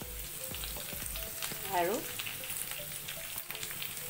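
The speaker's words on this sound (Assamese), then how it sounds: "এয়া আপোনাৰ পিঁয়াজখিনি ভাজিছোঁ" Chopped onions with coriander and cumin powder sizzle and crackle in a hot pan for a dry fish chutney, with a steady frying hiss, a few stirring clanks, and a single brief spoken word.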